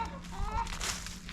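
Hens in a backyard coop pen let out a short burst of soft, close clucking against a low steady background hum.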